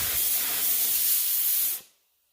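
A Harbor Freight HVLP spray gun sprays in one steady, loud, close hiss lasting nearly two seconds before cutting off abruptly into silence.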